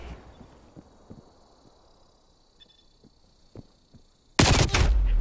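Gunfire in a 1v1 shooter game: scattered soft taps and shots at first, then a sudden loud, dense burst of rapid fire near the end, close and harsh.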